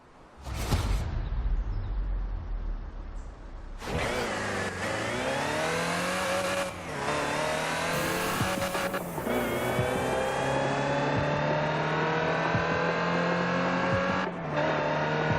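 A Land Rover Type 3 utility truck drives in the racing game Forza Horizon 4, its engine loud and close, revving and rising in pitch, then dropping with each gear change several times before settling into a sustained drone.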